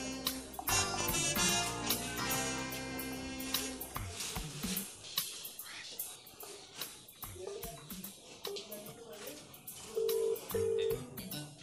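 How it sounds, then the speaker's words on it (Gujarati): Telephone keypad dialing tones sound while a call is placed, heard as short steady beeps near the end after a stretch of louder mixed noise and voices. "પેલાને પણ ફોન કરું."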